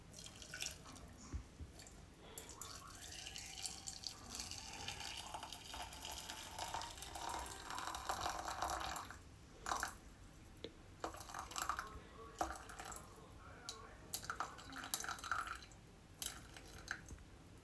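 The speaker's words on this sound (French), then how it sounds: "je vais mettre de l'eau chaude. Voire bouillante." Hot, near-boiling water poured onto chocolate for a mousse, a faint liquid trickle and splashing with scattered drips and clinks, quiet throughout with no talking.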